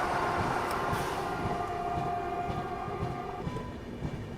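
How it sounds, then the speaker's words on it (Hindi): The Dehradun–Anand Vihar Vande Bharat Express moving slowly past under a speed caution, a steady low rumble of wheels on rails with a faint tonal whine, heard from nearby at moderate loudness. "देहरादून आनंद विहार वंदे भारत एक्सप्रेस।"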